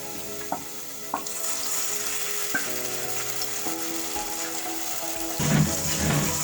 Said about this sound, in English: Then we're going to saute this.